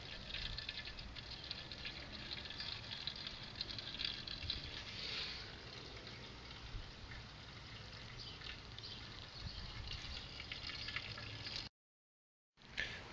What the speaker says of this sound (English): I'll start draining my first runnings into my boil kettle